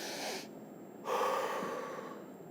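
After a contraction, a woman demonstrates labour breathing with a soft inhale, a brief pause, then a longer audible exhale, close and quiet.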